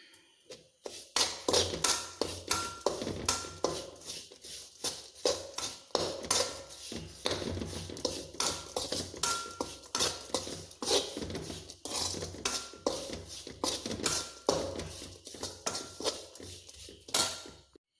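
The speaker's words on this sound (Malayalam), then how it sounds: "പച്ചമണം മാറുന്നത് വരെ നമുക്കൊന്ന് ഇത് വഴറ്റിയെടുക്കാം." A metal spoon scrapes and clanks steadily against a pan while lemon pickle masala of chilli powder, fenugreek and asafoetida is stirred and sautéed, in dense, irregular knocks that run throughout with no talking.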